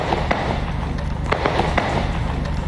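Gunfire during street fighting in a Philippine city, scattered sharp cracks and pops ringing out over a constant rumbling background, some shots sounding distant and others closer, with no speech.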